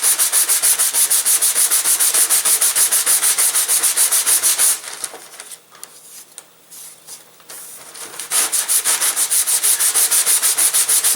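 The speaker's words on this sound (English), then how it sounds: "I'm using about 200 grit sandpaper here." Steady back-and-forth strokes of 200 grit sandpaper on a sanding block smoothing a model airplane propeller, with a continuous rhythmic rasp that briefly drops to quieter, lighter rubbing midway before resuming at full strength.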